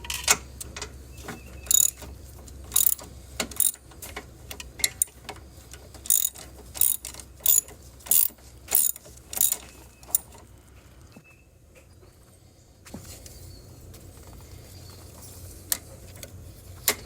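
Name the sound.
ratchet loosening motor mount bolts on Dodge Charger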